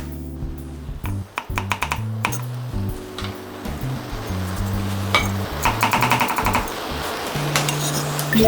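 A knife slices garlic and ginger on a cutting board during Chinese cooking exam practice for lazi chicken, giving quick, sharp taps in bursts with a steady chopping rhythm, close and clear, with no talk.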